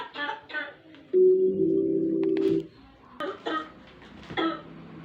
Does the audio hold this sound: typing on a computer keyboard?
no